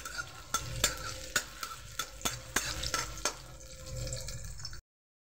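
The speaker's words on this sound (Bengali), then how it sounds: "এই তেলের মধ্যেই দিয়ে দেব রসুন কুচি। রসুন কুচিটাকে একটু ভেজে নেব।" Chopped garlic sizzles in hot oil as a spatula scrapes the pan in a quick, regular rhythm of about nine strokes. The frying hiss then continues alone before stopping abruptly.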